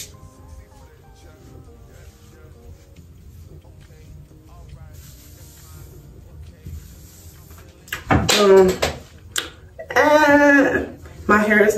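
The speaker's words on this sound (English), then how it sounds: "So now I'm gonna take this spritz." A hair spritz sprays in short bursts near the end, loud and close, following a long stretch of quiet handling and faint background noise.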